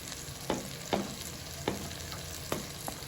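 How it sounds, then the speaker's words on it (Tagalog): Garlic sautéing with onions in a hot pan, a steady quiet sizzle broken by four or five soft utensil taps and scrapes, close and alone without talk. "Ilagay na rin natin yung bawang, no?"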